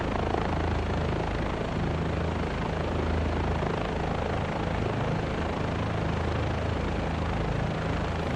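A helicopter in Microsoft Flight Simulator 2024 drones steadily with a heavy, continuous rotor and engine roar that holds loud and even throughout, with no voices over it.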